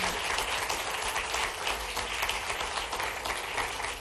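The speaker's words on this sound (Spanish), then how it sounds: "Señoras, un aplauso, por favor." A studio audience on a late-night talk show applauds, giving loud, dense clapping that holds steady throughout.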